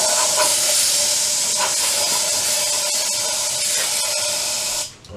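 Aerosol brake cleaner hisses in one long, loud, continuous spray onto parts of a 1973 Moto Guzzi V7 Sport motorcycle, close up, then sputters and cuts off at the end as the can runs dry.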